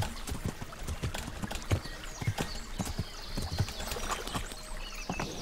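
Horse hooves clip-clop in steady rhythm through the medieval-world video game Kingdom Come: Deliverance, close and moderately loud over a continuous ambient bed, with no talk.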